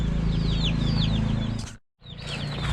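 Hens clucking and calling in a backyard henhouse, several overlapping chirpy calls over a steady low hum, loud and close, with a brief silent gap partway through.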